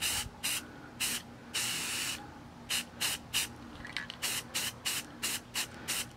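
A can of green spray paint hisses in repeated short bursts, a longer spray at first, then quick rhythmic pulses with brief pauses between them.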